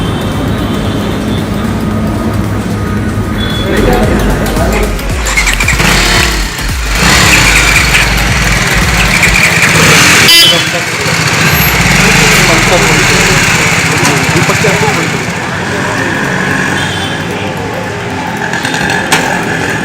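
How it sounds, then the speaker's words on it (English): A BMW G310 motorcycle engine runs loud and close, its rough exhaust note rising and falling over a continuous rushing, wind-like noise. "Now let's hear the exhaust notes."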